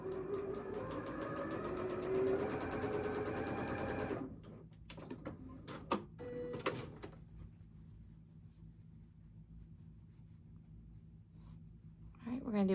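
A sewing machine stitches quilt block squares in a fast continuous whir for about four seconds, then stops, leaving a few clicks and handling noises before the quiet room hum and a brief restart at the end.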